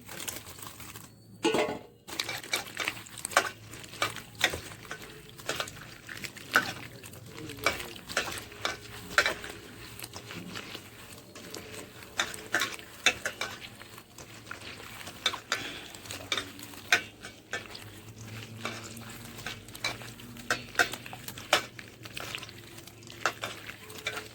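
Lentils are washed by hand in clean water, with irregular splashes, swishes and clinks of grains against a pot that come close and fairly faint, some brief louder knocks mixed in and no speech.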